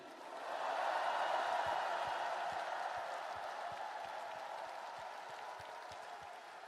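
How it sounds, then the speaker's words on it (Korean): A large crowd at a Democratic Party presidential nomination acceptance event applauds for two candidates, a broad wash of clapping swelling in after a half second and holding steady, heard at some distance. "우리 두 분 후보님께 뜨거운 격려의 박수를 부탁드립니다."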